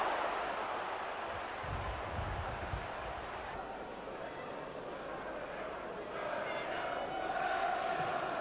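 A large rugby league crowd at Central Park, Wigan, during a Wigan v Leeds title decider in April 1990, makes a dense steady roar and murmur throughout, with a commentator talking over it.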